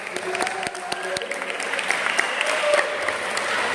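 An audience applauds the young debaters at a debate competition semifinal at IAKN Ambon, steady crowd clapping throughout with a few sharper individual claps standing out.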